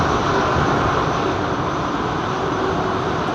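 Emirates Airbus A380 departing London Heathrow, heard as a steady, loud broadband jet roar that holds constant throughout with no voices.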